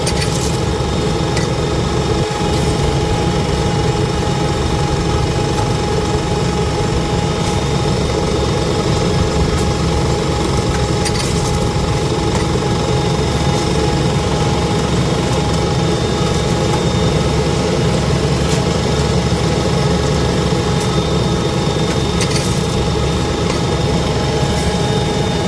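A large maize sowing machine pulled by a tractor runs at a constant loud level, a dense mechanical rumble and whine with no pauses and no voices.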